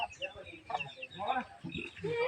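Chickens about to be slaughtered cluck in short bursts alongside people talking nearby, during rural wedding-eve preparations, with a busy, close-up outdoor feel.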